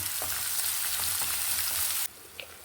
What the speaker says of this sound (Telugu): ఉల్లిపాయలు కొంచెం వేగాయి